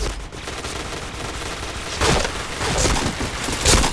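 Loud, continuous gunfire from the shooter game Point Blank runs in dense automatic bursts. It swells in heavier volleys near the middle and end, with no pause between shots.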